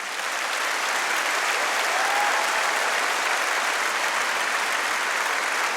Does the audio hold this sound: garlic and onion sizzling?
no